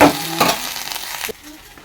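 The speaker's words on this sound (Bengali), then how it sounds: "জল দিয়ে এরকম নাড়াচাড়া করে জল দিয়ে" Vegetables with water being stirred in a small wok, a few brisk scraping strokes with a soft simmering hiss underneath, close and moderately loud, ending in a quieter stretch.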